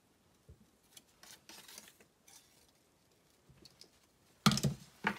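Scissors snip the corners off a handmade glassine paper envelope, producing a few soft, close crisp cuts and paper rustles, ending with a louder snip and crinkle, with no talking.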